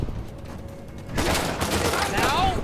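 Gunfire in the video game Uncharted 4, a loud burst of rapid shots starting partway through after a quieter stretch, with a whining ricochet near the end.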